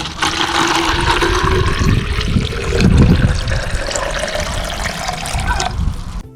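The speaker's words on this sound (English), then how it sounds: "Pour in the water and watch." Water poured into a DIY drip irrigation system for cucumber plants, a steady continuous splashing and trickling flow lasting throughout, close and fairly loud with no talk.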